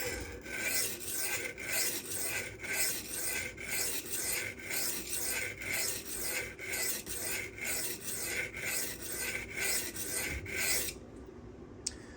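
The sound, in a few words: sharpening a Damasteel custom knife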